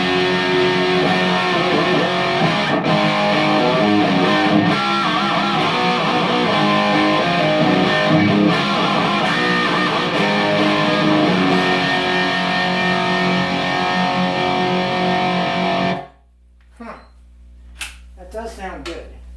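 Electric guitar played through a Jose overdrive pedal into an amp, a loud, thick distorted tone with chords and picked notes ringing continuously for about sixteen seconds, then cutting off to near silence with a few faint sounds.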